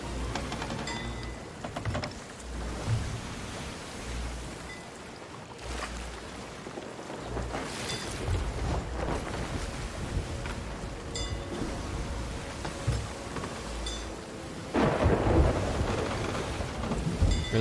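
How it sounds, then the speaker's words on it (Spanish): Thunderstorm at sea in Sea of Thieves, steady heavy rain and water noise with deep rolling thunder swelling and fading, a loud crack near the end, no voices. "hay que atravesar una tormenta también"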